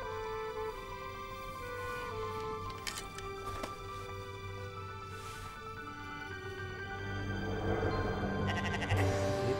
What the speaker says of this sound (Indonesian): Tuai Ibrahim ko isi domba